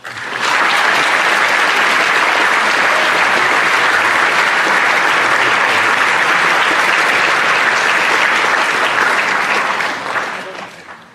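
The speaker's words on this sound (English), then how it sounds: "So please join me in giving a round of applause to the winners of the Preston Michael Anderson Scholarship, Sydney Burgess and Anna Van Rossum." Sustained audience applause at a high school scholarship night, loud and dense clapping from a large crowd that stays steady for around ten seconds before tapering off.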